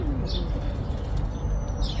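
Pigeons' wings flap briefly in a couple of soft bursts against steady outdoor background noise, with no voices.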